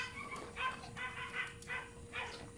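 A young dog in obedience training whimpers and yips in a steady series of short, high, whiny bursts, close and moderately loud, repeating about every half second with no talking.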